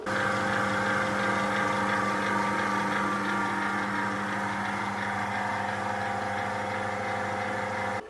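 The newest-model vacuum pump on a home freeze dryer runs nearby with a constant loud droning hum and steady tonal whine, then cuts off abruptly at the very end.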